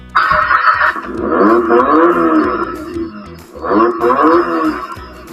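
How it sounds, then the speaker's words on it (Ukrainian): A children's electric ride-on jeep, the Bambi Racer M6282EBLR, plays its loud engine-start sound effect: a growling, roaring rev that surges, eases, then surges again, with no talking. "А при старті лунає звук запуску мотора."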